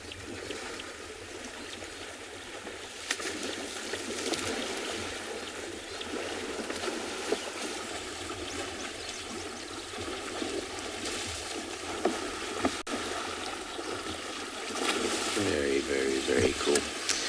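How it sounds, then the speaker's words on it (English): Animals swim in water on a sunrise safari at Tswalu, with continuous, noisy splashing and sloshing throughout and occasional sharper slaps of water, while faint voices murmur in the background. "just listen to the splashing around and take the sounds in, because they really are noisy when they swim"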